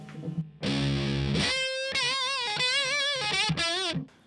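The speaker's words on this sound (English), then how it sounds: "Some things you can't do without fuzz." Electric guitar lead tone through a Way Huge Russian Pickle fuzz pedal rings out loud and saturated, a thick sustained low chord sliding into wavering vibrato single notes before cutting off.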